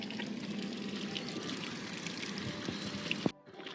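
Water gushing steadily from an irrigation pump pipe in a farm field after the pump is restarted: a continuous broad rushing flow that holds for several seconds, then cuts off abruptly near the end.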